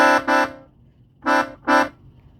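Four short melodic telolet bus horn toots in two pairs, loud and bright with rich harmonics, separated by quiet low rumble.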